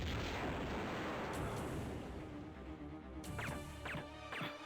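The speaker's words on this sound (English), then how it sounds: "turn on the TNT just to show you what it does. It'll blow up the Jade Dragon" TNT blast in Tomb Raider 2 at Bartoli's Hideout, a loud rumbling explosion filling the start, decaying into a low roar with a few sharp cracks and pops near the end.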